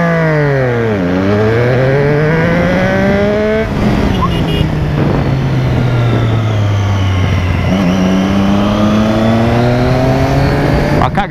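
A Suzuki Hayabusa motorcycle accelerates hard on the road between Lima and Curitiba, its engine pitch rising repeatedly through gear changes. The loud, close whine dips and climbs again over about eleven seconds.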